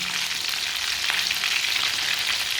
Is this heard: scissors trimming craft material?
no